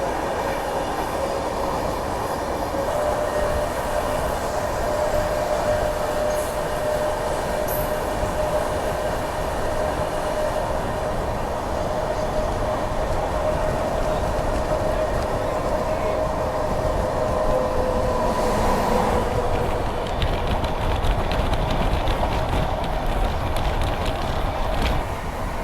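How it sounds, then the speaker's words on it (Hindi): Godavari Express passenger train running at speed on a 110 km/h limit track, a loud continuous rumble and rattle of wheels and carriages that holds steady throughout with no pauses. "हमारी ट्रेन ने भी रफ्तार पकड़ी है"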